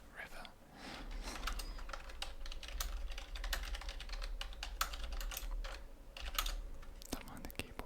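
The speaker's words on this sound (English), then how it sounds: "Don't mind the keyboard sounds." Steady typing on a computer keyboard, a continuous run of soft close clicks with a low hum underneath and no talking.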